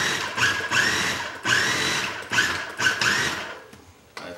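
A food processor pulses apples into chunks with four or five loud, close bursts of whirring motor, each about half a second to a second long with brief pauses between them, and then the sound trails off.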